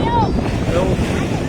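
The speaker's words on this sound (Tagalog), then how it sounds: "lakas ng hangin" Strong wind roars and buffets steadily across the whole clip at Infanta beach under cloudy skies, a broad rushing noise with faint whistling tones above it.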